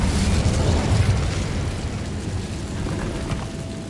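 A fiery Incendio spell burst in Hogwarts Legacy roars out as a loud, rumbling explosive whoosh that slowly tails off into a low, crackling burn.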